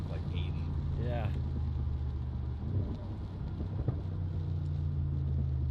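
Audi S6 fitted with ECS Tuning turbo inlets, steady engine drone and rushing intake airflow heard from inside the car, with brief speech over it.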